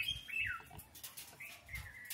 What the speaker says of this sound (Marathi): पक्ष्यांचे आवाज मस्त छानच येतात.